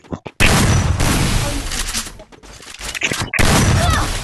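Loud gunfire from a Free Fire match, with bursts of rapid shots that pause briefly and resume, dense and close throughout.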